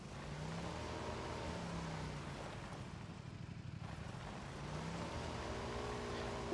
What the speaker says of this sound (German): Ich hab irgendwo ein Auto gehört.